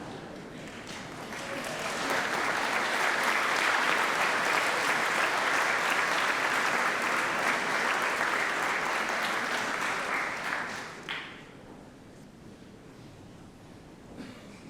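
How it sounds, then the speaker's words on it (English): Graduates at a university graduation ceremony applaud their families and friends, a large crowd's dense, roaring clapping swelling up and holding steady before dropping off sharply, leaving a quieter hall with a few stray claps. "Can I ask our graduates, please stand up, wave to your families and friends and applaud them"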